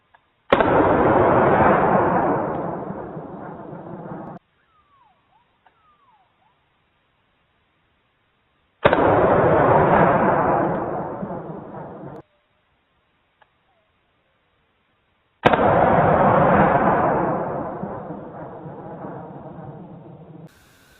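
Three booming .44 Magnum shots with Buffalo Bore 270 grain JFN rounds fired into lumber, each a sharp loud blast with a long rolling decay, separated by several seconds of near silence.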